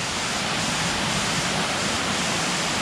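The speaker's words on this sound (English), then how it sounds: "So this is definitely not the same waterfall." A waterfall near a cave in Paramo, Colombia pours in a steady, loud, broadband rush that fills the whole stretch without pause, close by and with no voices over it.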